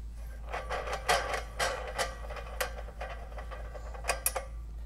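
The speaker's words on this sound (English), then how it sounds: "So let's take this wing nut off." Metallic ticking and scraping as a wing nut is turned off the mounting bracket of an RV propane tank, a close, irregular run of small clicks and rattles with no talking.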